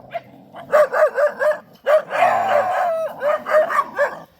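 Puppies barking during a walk, a run of high, yappy barks in quick rhythmic bursts with a longer drawn-out yelp in the middle, close and fairly loud.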